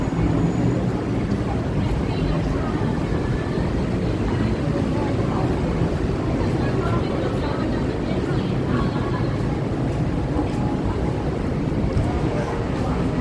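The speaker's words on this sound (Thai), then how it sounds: "ลมแรงจริงๆครับ ตอนถ่ายทำคลิปนี้ลมแรงมากนะครับ" Strong cold-season wind buffets the microphone on a walk along a city street beside a shopping mall in Thailand, a steady loud low rumble that continues throughout the clip.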